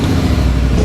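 A Polaris RZR Pro S side-by-side engine runs loud and close in a steady, dense roar, with a low throbbing pulse through the brief burst and no talk.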